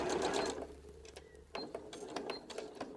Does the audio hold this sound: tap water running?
no